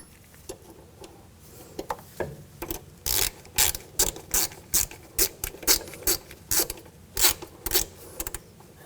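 A ratchet wrench tightens a nut on the front strut mount of a 2000-2006 BMW X5, giving a close, crisp run of rapid clicking bursts in a steady back-and-forth rhythm over quiet workshop background.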